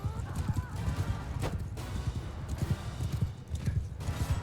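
Rhythmic hoofbeats of a galloping horse in the medieval battle game Mount & Blade II Bannerlord, with rapid thudding clip-clop and occasional combat clatter, heard fairly close and steady.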